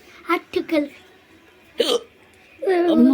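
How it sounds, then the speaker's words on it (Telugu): Several short, sharp hiccups come in a loose irregular series, close by, followed by a sustained vocal sound at the end. "కింద ఎక్కిళ్ళు వస్తున్నాయి నాకు."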